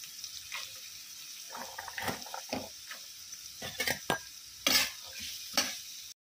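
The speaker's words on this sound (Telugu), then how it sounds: "ఇలా ఆనియన్స్ వేగిన తర్వాత ఇందులో క్యారెట్ కూడా వేసేసుకుందాం." Carrots tossed into a pan with frying onions and green chillies, stirred with a utensil that clinks and scrapes in several distinct bursts over a soft, steady sizzle of oil, close up and with no talking.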